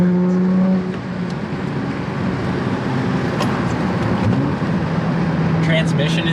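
A Honda Accord V6 with a 6-speed manual drives on back roads, its engine humming steadily under road and tire noise from inside the cabin.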